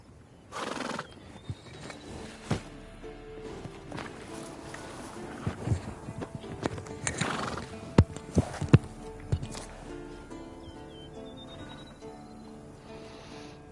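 A horse whinnies loudly in The Witcher 3: Wild Hunt, followed by scattered hoof clops and shuffling, with further snorts and movement in a quiet game setting.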